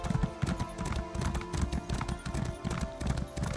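Rhythmic clip-clop of horse hooves on a trail in The Elder Scrolls Online, steady and close throughout over faint game ambience.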